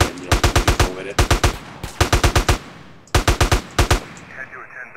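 Rapid bursts of automatic gunfire in GTA San Andreas, arriving in three clusters of four or five sharp, loud shots each, separated by short gaps.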